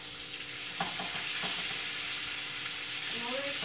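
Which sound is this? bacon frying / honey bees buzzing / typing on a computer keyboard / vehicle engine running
bacon frying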